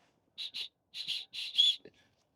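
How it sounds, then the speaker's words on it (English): Several short, shrill toots in quick pairs from a whistle built into the sternum strap of an F-Stop Tilopa camera backpack, close and fairly loud, with a pause between groups. "There is a whistle built in."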